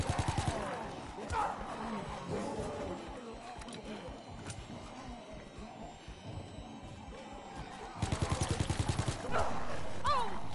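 Call of Duty: WWII combat with bursts of rapid machine-gun fire at the start and again near the end, and background battle noise and voices in between.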